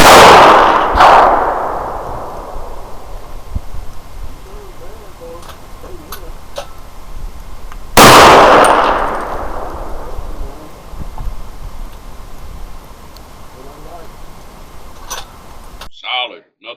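Two sharp, loud shots from a 300 Blackout rifle with handloaded ammunition crack outdoors in cold, windy snow about eight seconds apart. Each report rings out in a long echoing tail, and quiet voices can be heard in between.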